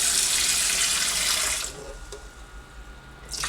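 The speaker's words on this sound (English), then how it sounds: "So, we're going to rinse off our rice." Kitchen sink tap running while rice is rinsed, a loud steady gush of water that stops partway through, followed by quiet and a brief return of splashing at the end.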